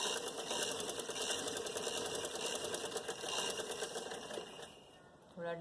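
A sewing machine runs in a steady, fast stitching rhythm while sewing a puff sleeve, close and fairly quiet, stopping abruptly near the end.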